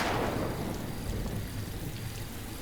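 Steady heavy rain pours down outside a house, a continuous hiss of falling drops with a low rumble beneath, loud and unbroken throughout.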